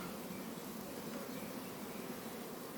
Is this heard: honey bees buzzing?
yes